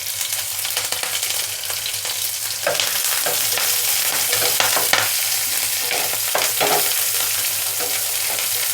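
Thinly sliced onions and curry leaves sizzle in hot oil in a pan, a steady close hiss broken by clattering stirring strokes that grow busier midway.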